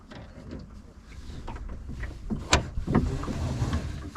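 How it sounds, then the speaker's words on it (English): A sailboat's jib sail being unfurled, with fabric flapping and rustling in the wind alongside creaks and clunks of the furling gear, including a sharper knock midway, over steady wind noise. "I'm just going to try and unfurl the jib."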